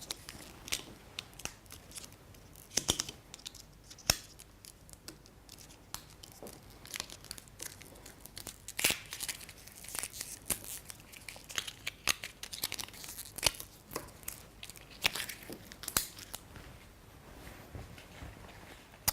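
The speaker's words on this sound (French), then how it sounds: "je vais couper toute la partie papier, ici, proprement." Paper foil wrapping is cut away from the neck of a sparkling wine bottle with a sommelier's knife, heard as close, repeated crisp tearing and crinkling bursts in an uneven rhythm, with no voice.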